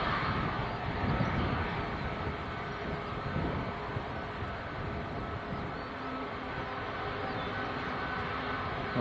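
An arriving airplane at Leeds Bradford Airport rumbles as a broad, distant roar, steady and moderately faint throughout.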